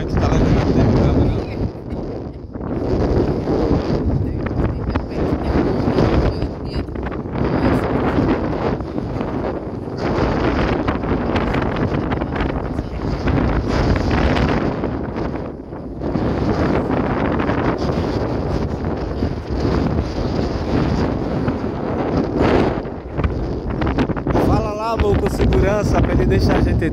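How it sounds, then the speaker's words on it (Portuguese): Heavy wind buffeting a camera microphone outside a convention center in Recife, a loud continuous rumble that gusts and dips throughout, with voices talking faintly underneath. "E o vento tá levando até a câmera."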